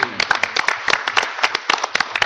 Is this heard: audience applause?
yes